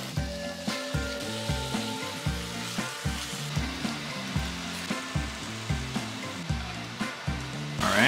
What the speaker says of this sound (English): let's start cooking some of the beef. This is just your standard like sukiyaki beef.